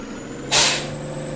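A Peterbilt truck with trailer in Farming Simulator 19 lets out a sharp, loud air-brake hiss that bursts suddenly, then fades within half a second over a low idling hum.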